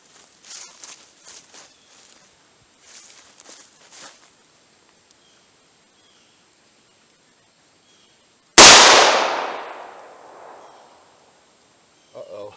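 .45 ACP carry pistol loaded with 110 grain Critical Defense rounds fired once into a big book: a single sharp, loud outdoor report with a ringing decay, after quiet shuffling and faint footsteps.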